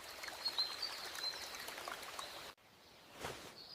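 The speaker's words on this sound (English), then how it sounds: "I wash my face with cold water." Cold water splashed while washing a face, a dense close splashing and trickling wash that cuts off abruptly, followed by a quieter stretch with one brief splash.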